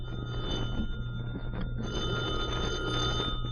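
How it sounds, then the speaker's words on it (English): An old-time telephone bell rings continuously in a 1945 radio comedy broadcast set in a tavern, a steady metallic ringing held at moderate loudness over a low background hum. "Answer the phone, Eddie, and tell him that I'm still quitting"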